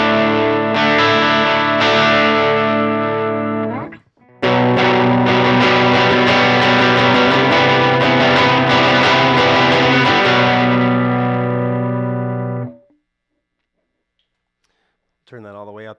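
Loud, distorted electric guitar chords ringing with a thick boosted tone, a brief gap, then sustained heavy strumming that cuts off into silence before a short final strum.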